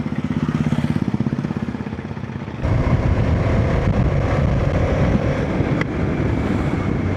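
A TVS Apache RTX 300 motorcycle being ridden, its engine a steady pulsing drone that gives way to loud, continuous roaring wind rush as speed builds.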